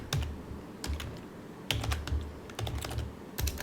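Keys clatter on a computer keyboard while entering data into an Excel spreadsheet, close clusters of quick clicks arriving in short bursts separated by brief pauses, with no voice over them.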